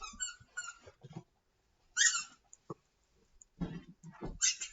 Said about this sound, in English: Sorry about the squeaking. I've got a puppy and he's out of control today.